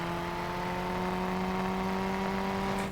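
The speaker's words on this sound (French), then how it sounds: "Ça fait un très joli bruit déjà. Oh ça monte quand même à 6000 tours pour un petit moteur comme ça." A BMW 3 Series small engine in the BeamNG driving game revs steadily toward 6000 rpm, making a constant loud drone with a strong harmonic whine that holds evenly for three seconds.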